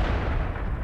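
Tank cannon fire in the World of Tanks video game, a Jagdpanther match, comes through as a dense, loud, booming blast with rumbling low-end roar that fills the whole brief moment.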